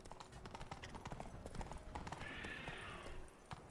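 Horse hooves clip-clop in a quick, busy rhythm, close and fairly faint, with a brief whinny-like tone partway through and light voices in the background.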